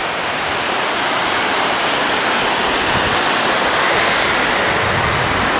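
The Shaki waterfall in Armenia gives off a steady, loud, close roar of falling water as a broad, unbroken hiss with no talk over it.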